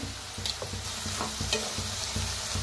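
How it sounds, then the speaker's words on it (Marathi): Radish pods dry-roasting with a little oil and salt in a pan, a soft continuous sizzle punctuated by repeated scraping stirs, fairly quiet and close. "आता त्याच्यात थोडंसं तेल वतून भाजूया, थोडंसं तेल वतूया म्हणजे भाजलं जाते चांगलं।"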